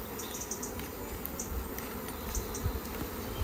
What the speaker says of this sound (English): Okay, so this is a full hive.